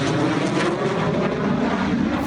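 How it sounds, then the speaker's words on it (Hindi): Pakistan Air Force fighter jets flying aerobatics at Masroor base: a continuous loud broadband jet roar, steady throughout the short stretch, with no voices. "पाकिस्तान एयरफोर्स मसरूर बेस पर तकरीब में लड़ाका तैयारों ने फिजाई करतब दिखाया।"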